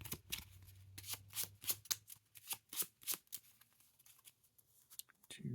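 A deck of cards is shuffled during a Spider-Man versus Sandman tabletop card game: a quick run of crisp, close riffling bursts with short pauses between them, and no voices.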